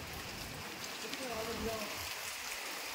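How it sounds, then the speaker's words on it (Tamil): Heavy rain during Cyclone Michaung in Chennai, with strong wind, a steady wash of downpour hissing on surfaces while a voice speaks over it. "பயங்கரமான மழை, செம்மையான காற்று"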